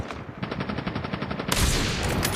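Rapid bursts of gunfire from a sniper rifle and guns in the video game Call of Duty Mobile, a quick string of sharp shots followed by a louder, denser blast near the end, with no voices.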